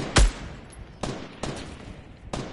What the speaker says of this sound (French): J'ai encore mis un coup de feu